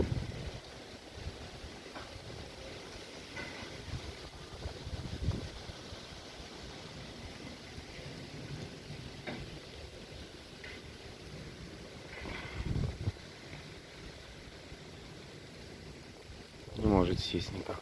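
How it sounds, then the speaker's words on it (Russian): Strong outdoor wind buffeting the microphone, a continuous roar with gusty swells rising and falling over a long stretch, with brief voices in the background. "Ветер хороший."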